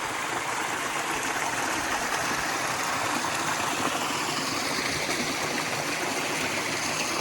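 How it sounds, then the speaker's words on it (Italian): Glacial snowmelt mountain stream rushing steadily nearby in a high alpine valley, a dense continuous roar of water with no voices. "Questa è tutta la neve che fonde dalle quote più alte e scende."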